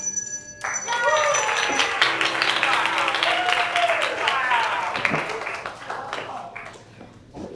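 Audience applause after a stage performance of The Taming of the Shrew, a sustained wash of clapping from a crowd that rises quickly and keeps going for several seconds before thinning out, with voices underneath.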